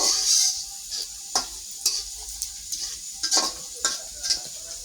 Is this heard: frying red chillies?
yes